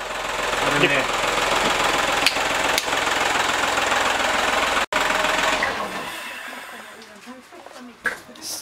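BMW E30 engine running loud and steady with a rough, knocking idle from a faulty ignition coil leaving it on five cylinders, then cutting off abruptly and fading to quieter background.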